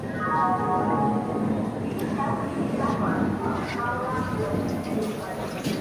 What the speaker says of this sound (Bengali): ট্রেনটি ছুটে চলেছে,